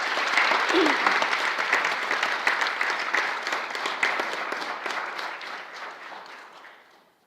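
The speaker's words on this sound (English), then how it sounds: "we can just have one more round of applause for the champion recognitions and the superintendent recognitions" Sustained audience applause at a school board meeting, a broad even wash of many hands clapping that fades gradually toward the end.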